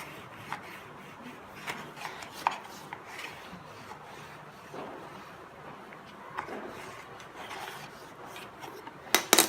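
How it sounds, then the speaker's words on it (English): Paper pocket flap being burnished down onto a handmade recipe album base, a soft continuous rubbing and scraping with light taps and rustles, close and quiet, ending in a few sharper knocks. "just go inside and burnish the pocket so that it sticks down to our"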